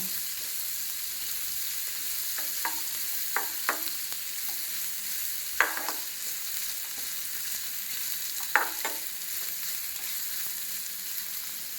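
Chopped carrots for vegetable noodles sauté in a pan with a steady soft sizzle, punctuated by several sharp spatula clicks and scrapes against the pan.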